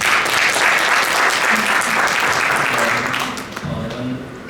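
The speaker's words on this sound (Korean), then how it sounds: "큰 박수로 모시겠습니다." A lecture audience at a medical talk gives loud, dense applause to welcome the presenter. The clapping is steady for several seconds, then thins out toward the end.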